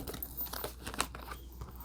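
Oracle cards being shuffled by hand, a papery crinkling and riffling that runs continuously through the moment with a sharper flick near the middle, fairly quiet and close.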